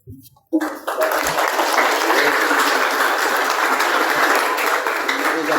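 A conference audience breaks into sustained, dense applause after a brief silence, loud and steady throughout, with a few voices mixed faintly beneath the clapping.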